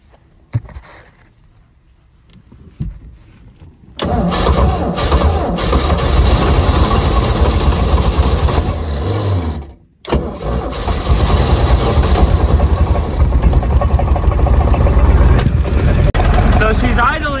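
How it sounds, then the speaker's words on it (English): A Rinker V170 boat engine cranks and catches after a quiet start, then settles into a loud, rough idle, cutting out briefly before restarting and running steadily; the boat has a leak. "So she's idling, but she ain't idling all that good."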